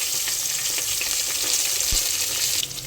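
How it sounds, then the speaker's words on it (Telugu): Paneer pieces fry in hot oil and ghee with onion, green chilli and biryani masala for vegetable biryani, a steady close hissing sizzle throughout. "మనం పన్నీర్ ముక్కలు కూడా వేసేసుకున్నాం."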